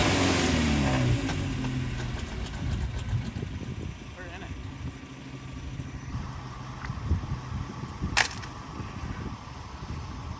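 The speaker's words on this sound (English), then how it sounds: "this little tracker can't go through this big old mud hole" Small Tracker car stuck in a big mud hole in the North Carolina sandhills, its engine revving and straining up close, loud at the start and then easing off, with people talking over the motor and a sharp click near the end.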